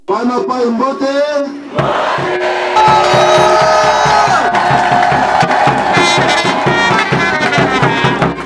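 A jubilant crowd cheers and shouts in welcome at a rural commune office in the Masimanimba area, a dense, loud, sustained roar of many voices with whoops that follows a few seconds of talk.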